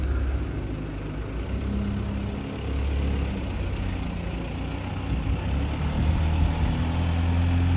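An Ipswich Buses route 65 bus to Rendlesham rumbles nearby with a steady low diesel engine drone, idling and pulling in, with faint traffic around and no talk.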